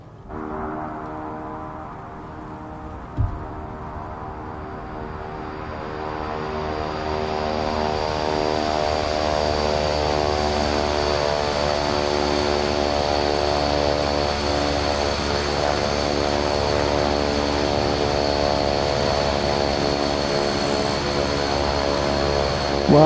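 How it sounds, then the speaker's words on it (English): Aircraft engine in Microsoft Flight Simulator 2024, with a propeller-driven plane taxiing: a steady, loud droning hum that swells gradually and holds throughout, with one brief thump early on. "Okay, I'm going to taxi."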